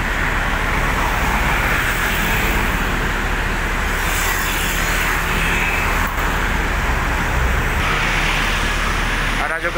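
A Scania articulated city bus in Maya Sari Bakti livery passes on a busy toll-road exit during the morning commute, its broad engine and tyre roar filling the whole span loudly and steadily amid surrounding traffic noise.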